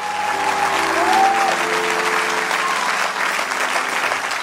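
Church congregation applauding loudly and steadily throughout, a dense wash of clapping with faint background tones.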